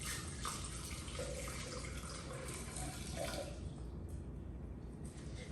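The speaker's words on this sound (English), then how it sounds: "we're gonna add 1 cup of measured cold water, and we're gonna add it into the blender." A cup of measured cold water pours into a blender jar with a steady rushing splash that runs continuously and close by.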